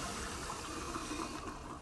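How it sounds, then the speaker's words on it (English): Water rushing steadily in a toilet flush from the Skibidi Toilet animation, a faint continuous gush and swirl lasting about two seconds with no voices. "But he gets flushed down."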